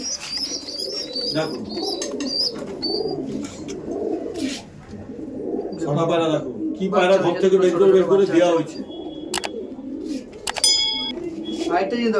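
Pigeons at a pigeon sale, with repeated low rolling coos from several birds nearby, sharp chirps and clicks in places, and people talking throughout.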